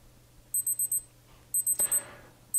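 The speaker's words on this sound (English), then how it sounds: "And this will alarm for 5 seconds" A Casio G-Shock G-7700 digital watch alarm chirps in quick bursts of four sharp, high electronic beeps, repeating close and clear with short pauses between groups over a quiet room.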